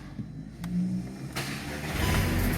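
A VW Golf GTI mk6 engine cranks and catches after an oil service, a short starter burst followed by a rising, steady idle close by.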